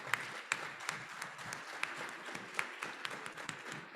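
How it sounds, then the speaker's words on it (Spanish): An audience applauding at a business event, a faint, sparse patter of claps with a few sharper individual claps standing out. "el señor Alberto Afiuni, para lo cual pido un gran aplauso"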